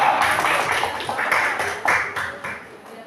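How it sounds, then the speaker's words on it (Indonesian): A class in a history lesson gives a short round of applause, the claps landing in a loose, rhythmic pattern close by. "beri tepuk tangan buat mereka"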